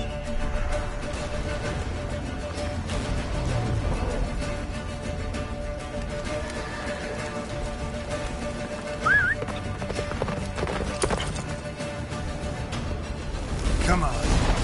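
Hooves of the horse Roach galloping through a snowstorm in The Witcher 3, a continuous rapid clip-clop under blustery wind and game sound, with a brief whinny and talking voices over it.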